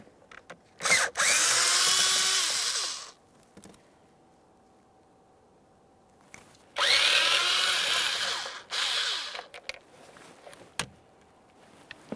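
A power screwdriver whirs in two separate bursts of about two seconds each while removing a pair of Phillips head screws from the steering column of a 2008-2017 Mitsubishi Lancer, close and loud, with small clicks and handling noises in between.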